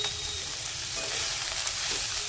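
Valache bean pods stir-frying in a thick kadhai, giving a loud, steady, close sizzle with a faint scrape of stirring throughout, no talking.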